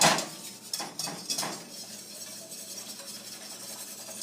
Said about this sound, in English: you gotta give it a